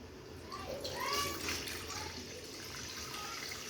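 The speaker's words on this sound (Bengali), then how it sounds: "একটু জল দিব," Water pours into a wok set on a gas stove, a continuous splashing gush that swells in the first second and then settles into a steady, moderately loud trickle.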